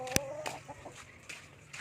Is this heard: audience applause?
no